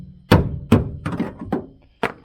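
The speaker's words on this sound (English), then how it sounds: "Use this big hammer here." A heavy hammer pounds dents out of a 1969 Chevy van's steel body panel: four loud, ringing metallic blows at uneven intervals, close by, with no talking.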